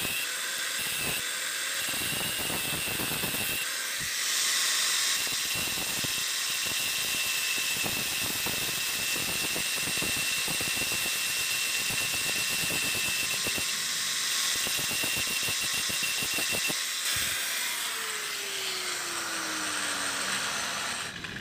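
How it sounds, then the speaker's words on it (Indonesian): An angle grinder flattens the protruding stub of a broken bolt, a loud continuous high whine with rough grinding as the disc works the metal, then winds down toward the end. "Sisanya ini yang menonjol kita habiskan ya, kita ratakan dengan gerinda"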